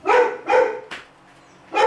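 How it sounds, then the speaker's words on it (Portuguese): A neighbor's dog barks three times in quick succession, pauses, then barks again, loud and fairly close. "Pode latir como você quiser."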